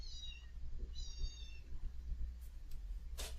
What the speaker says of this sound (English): it sounds like a cat's caught in there